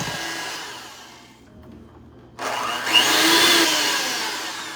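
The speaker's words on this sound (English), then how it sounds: "Give it a little turbo spin to loosen up some of take the excess batter off of the beaters" An electric hand mixer whirs with batter-coated beaters for apple cinnamon oatmeal cookies, running, briefly dropping off, then kicking back in louder on turbo with a sustained high whine.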